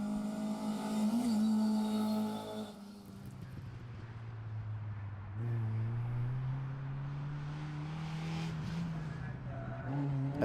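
A Ford Escort rally car races around the Brands Hatch circuit, its engine revving hard and shifting through gears as it passes, loud and fairly close with a rising, then steady, drone.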